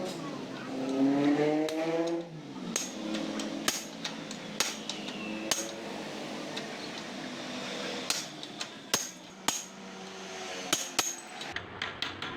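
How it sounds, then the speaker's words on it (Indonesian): Steel hammer driving a drift to knock out the upper and lower steering stem bearing races on a motorcycle, giving a string of sharp metallic knocks spaced irregularly over a steady background hum, close and loud. "lepas lingkaran luar atas dan bawah menggunakan asop dan palu baja"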